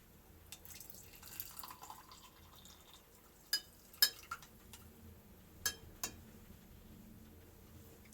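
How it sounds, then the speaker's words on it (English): Freshly boiled water at about 80 to 90 degrees Celsius goes into a glass beaker, heard as a faint trickle and scattered drips with a few sharp glassy clinks in an otherwise quiet room. "To the left beaker I am going to add freshly boiled water at around 80 or 90 degrees Celsius."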